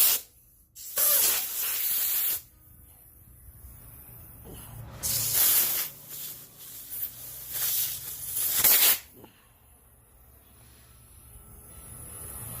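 Lubricant is sprayed from an aerosol can onto the handlebar steering post of a 2008 Polaris 330, with three close, loud hissing bursts of a couple of seconds each, separated by quiet pauses.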